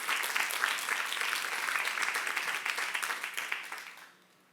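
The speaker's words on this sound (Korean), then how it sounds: "박수 한번 주세요." A youth congregation applauds during a sermon at a church service, a full round of clapping from the audience that holds steady and loud, then thins and fades out near the end.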